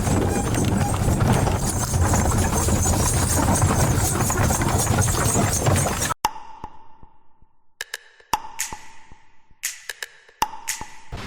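Hooves of a horse-drawn cart clip-clop on a road on Gili Air, Indonesia, beneath a loud rumbling ride, then sharper irregular clopping and tapping stand out once the noise drops away.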